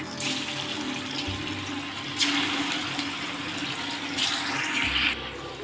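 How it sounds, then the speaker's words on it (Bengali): Fig dhoka fritters are dropped one by one into hot oil in a wok and fry with a loud, continuous sizzling hiss, with a couple of brief louder bursts, close up and without speech. "তেলটা গরমও হয়ে গেছে একে একে ধোকাগুলো এবার ছেড়ে দেবো"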